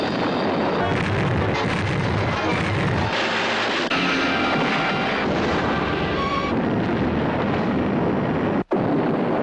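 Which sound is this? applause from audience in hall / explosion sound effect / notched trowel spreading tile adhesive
explosion sound effect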